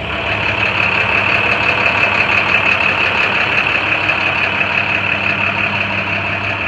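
An International dump truck idles steadily at close range, a continuous even engine drone with a persistent high whine over it and no voices.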